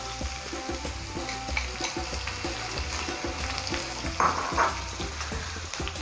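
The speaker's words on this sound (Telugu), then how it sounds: "ఇప్పుడు మనం సన్నగా కట్ చేసుకున్న 2 ఆనియన్స్ ఫస్ట్ దాంట్లో వేసుకోవాలి." Sliced onions frying in hot oil in a kadai give a steady close sizzle and crackle, with occasional scraping stirs and a brief louder burst near the end.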